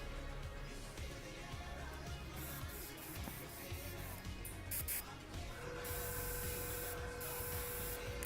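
An airbrush sprays paint from a hopper in steady hissing bursts, close and continuous, with short pauses and shifts in pressure, no talking.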